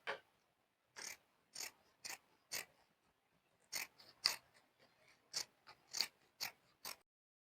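Scissors snipping through excess fabric wrapped over a glued bridal hand fan base, a series of short crisp cuts in irregular bursts, close and fairly quiet with no talking.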